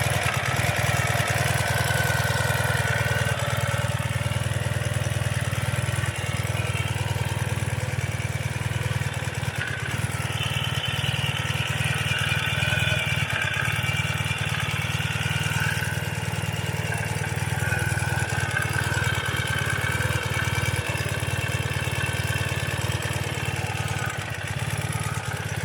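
A Ural cT Gen2 motorcycle with a Keihin EFI upgrade idles steadily up close, its low engine rumble and exhaust note running loud and unbroken with no talking.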